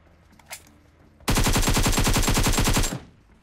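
A long burst of rapid automatic rifle fire in BGMI, loud and close, hammering steadily for nearly two seconds after a quiet moment with a faint click, then cutting off.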